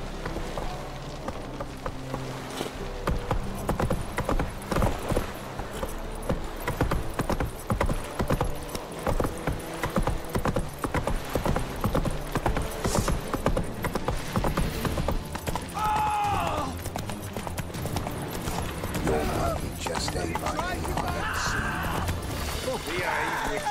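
Roach, a horse in The Witcher 3 set on Skellige, gallops with steady rapid clip-clop hoofbeats running throughout, loud and close, mixed with game music and ambient effects, with a voice speaking over parts of it.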